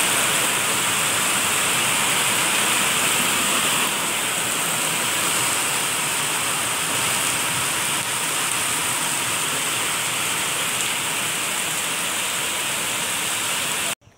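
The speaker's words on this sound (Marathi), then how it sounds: "परत पाऊस आला." Heavy rain pouring down outdoors in a village, a loud, steady hiss of downpour that stays constant without pause, ending abruptly at the very end.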